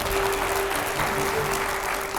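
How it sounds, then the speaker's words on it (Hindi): Studio audience clapping at a live Hindi interview show with a Nagaland minister, a steady dense wash of applause lasting throughout at moderate level. "जोरदार तालियां हो जाएं इस पर।"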